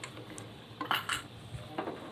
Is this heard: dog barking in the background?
no